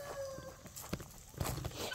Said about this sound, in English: Here goes that guinea chicken hybrid